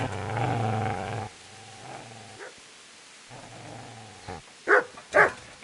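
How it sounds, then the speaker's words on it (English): Dog growling in Kingdom Come: Deliverance, a low rumbling snarl for about a second, then quieter intermittent growls and two sharp louder bark-like yelps near the end, moderately close. "Get away, you mutt!"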